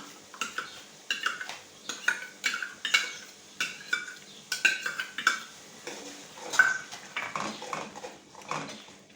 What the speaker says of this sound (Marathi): सर्व वाटून घेतलेलं साहित्य चांगलं परतून घ्यायचं खाली लागून द्यायचं नाही